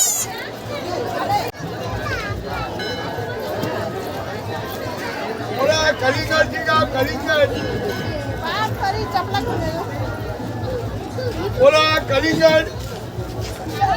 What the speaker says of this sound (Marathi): गर्दी फार आहे